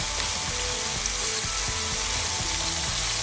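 Beef sears in a hot wok for a sesame stir fry, giving off a steady, close sizzle with faint clinks and stirring scrapes, no voices over it.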